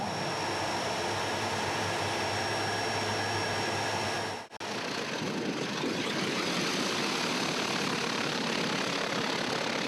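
Aircraft engine at full takeoff power, a loud steady roar with a constant drone that briefly dips midway, then continues with a broader rushing sound.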